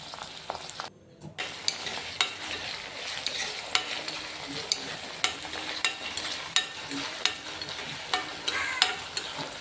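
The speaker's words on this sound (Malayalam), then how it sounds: "അതിനുശേഷം നന്നായിട്ടൊന്ന് ഇളക്കി കൊടുക്കുക നന്നായിട്ടൊന്ന് മൂത്ത് വരണം നമ്മുടെ വെളുത്തുള്ളി" Garlic, ginger, green chillies and curry leaves fry in oil for a lubika pickle while a spoon stirs, giving a constant sizzle broken by regular scraping strokes against the pan.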